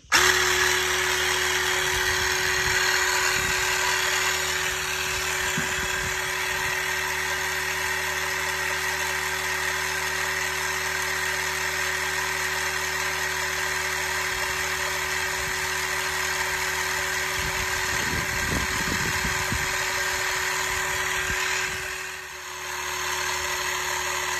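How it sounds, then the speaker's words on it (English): A mini motorcycle tyre pump compressor runs continuously, giving a steady, droning electric buzz with a faint high whine, unchanged for over twenty seconds and fairly quiet. "we'll start the compressor and see how long it takes to get to pressure"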